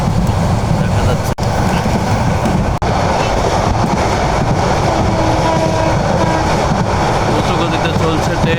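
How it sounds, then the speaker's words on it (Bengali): A passenger train bound for Cox's Bazar moves at speed, giving a loud, continuous rumbling roar with faint rhythmic clatter and wind buffeting the microphone throughout, recorded from on board. "দ্রুত গতিতে চলছে ট্রেন কক্সবাজার উদ্দেশ্যে"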